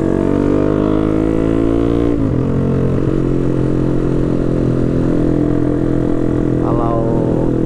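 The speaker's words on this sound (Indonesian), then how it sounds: "Kalau merasa terganggu dengan suara knalpot" A loud, throaty Yamaha MX King motorcycle engine with a loud aftermarket exhaust idles and rumbles steadily, with a brief revving surge partway through and continuous exhaust drone throughout.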